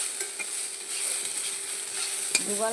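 Ivy gourd curry with mustard paste fries in a pan while a utensil stirs it, a soft continuous sizzle broken by light scraping strokes and one sharper clink near the end.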